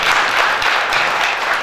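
An audience at a conference applauds loudly, dense continuous clapping filling the whole short stretch with no talk over it.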